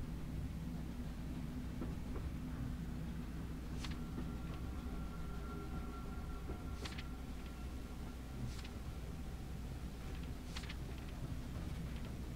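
A train runs steadily in The Room Three puzzle video game, a continuous low rumble with faint tonal hums and a few sharp clanks scattered throughout.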